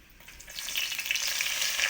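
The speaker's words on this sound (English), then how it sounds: "If you hear the sizzle music, you can throw in about 2 handfuls of eggplant." Eggplant hits hot oil in a pan for ratatouille, the sizzle swelling from quiet to a loud, close, crackling fry that holds steady to the end.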